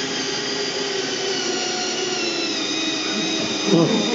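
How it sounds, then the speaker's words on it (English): A battery-powered drill boring a hole into a plastic bulkhead container, a steady high motor whine running close and loud for the full stretch, with a brief rise in strain near the end. "You basically drill a hole."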